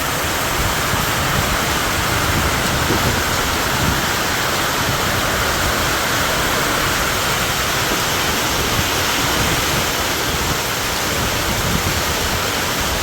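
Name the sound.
heavy rain pouring in Surat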